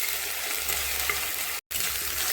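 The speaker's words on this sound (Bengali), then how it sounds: "এখানে 2 চামচ আদা রসুন বাটা দিয়েছি। এটা একটু ভালো করে ভেজে নেব" Two spoons of ginger garlic paste fry in a pan for a chicken curry, giving a steady, dense sizzle with no voices, broken only by a brief moment of silence.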